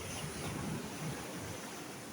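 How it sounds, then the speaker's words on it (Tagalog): Strong ocean waves break and wash along a shore on a trip to San Pedro, heard as a steady, loud roar of surf with wind noise and no pauses. "The waves are so strong."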